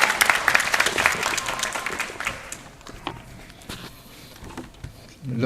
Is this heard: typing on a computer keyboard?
no